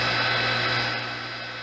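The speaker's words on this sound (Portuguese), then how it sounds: "vou usar uma parafusadeira elétrica aqui que dela fica mais perfeita" An electric screwdriver spins a TIG welding electrode against a sharpening stone, giving a steady, close whirring motor hum that holds level and then eases slightly toward the end, with no voices.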